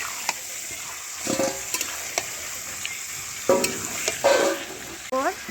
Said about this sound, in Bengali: তেলের ওপর মাংসটাকে ভেজে নিচ্ছি ভালো করে